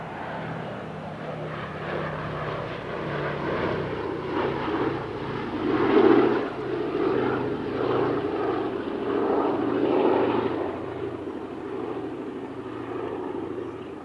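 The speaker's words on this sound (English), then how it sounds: "B-17G Flying Fortress Sally B" Boeing B-17G Flying Fortress Sally B, a 1945-built four-engine propeller bomber, flies past at a Sunday airshow display with a steady, loud droning roar that swells briefly near the middle and again toward the end.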